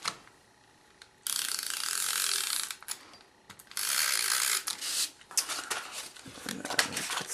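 A snail adhesive tape runner clicks and ratchets in quick bursts close by while paper crafting, with brief pauses between strokes and no talk.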